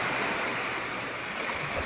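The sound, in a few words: water waves lapping at shore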